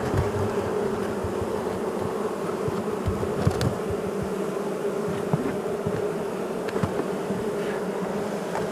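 Honey bees droning around a hive as a colony is fed in autumn, a dense continuous buzz close to the microphone with individual bees passing nearby, with no talking over it.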